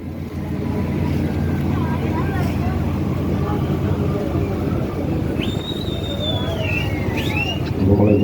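A ferry boat's engine drones steadily as it pulls away from the Marine Drive jetty in Kochi, a continuous low rumble lasting throughout with faint chatter and a few higher whistling tones above it.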